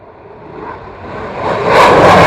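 A light aircraft departing runway 27 at the Royal International Air Tattoo air show, engine drone building steadily from faint to loud as it accelerates and passes close, with no talk.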